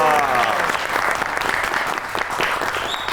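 A studio audience at a Pakistani comedy talk show breaks into loud, sustained applause, steady clapping that holds for about three seconds without pause.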